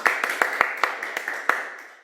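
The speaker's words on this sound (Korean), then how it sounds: "박수 주십시오." A small audience at a lecture orientation gives a brief, scattered round of claps, a dozen or so distinct sharp hand claps in loose rhythm, fairly quiet and close.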